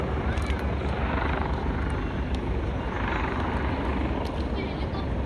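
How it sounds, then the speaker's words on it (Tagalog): A helicopter landing on a building helipad in Hong Kong, its steady rotor thrum loud and continuous throughout, with people talking over it. "Guys, may helicopter."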